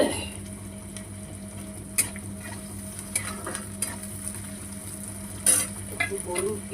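Salted onions frying in a pan for a drumstick-leaf stir-fry give a low, steady sizzle, with a few sharp spoon clinks and stirring scrapes scattered through it and a faint hum underneath.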